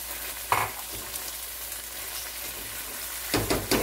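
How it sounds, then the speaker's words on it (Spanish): Ham sizzles and fries steadily in a pan for arroz con gandules, a continuous crackling hiss with a couple of louder spattering bursts near the start and end. "Que se fría un ratito."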